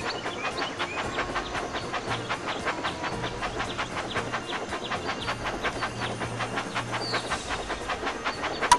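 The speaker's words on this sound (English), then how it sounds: "Race your engine to the bottom of the mountain" Rhythmic clickety-clack of a train rolling along tracks in the video game Thomas & Friends: Magical Tracks, steady and continuous, with a low hum and faint hiss underneath.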